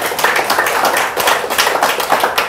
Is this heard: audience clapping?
yes